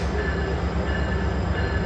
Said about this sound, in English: I think this train is cool.